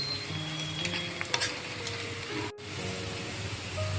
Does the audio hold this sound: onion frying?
yes